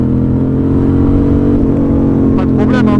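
A Yamaha XSR700 motorcycle engine, a twin-cylinder, pulls hard with a steady loud droning roar at close range as it accelerates, and someone talks briefly near the end.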